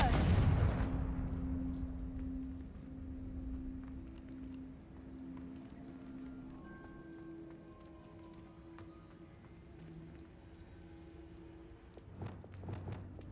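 In the Hogwarts Legacy game, the Confringo blasting spell bursts with a loud explosive blast at the start that fades into a low tonal hum, with faint thuds and clicks later.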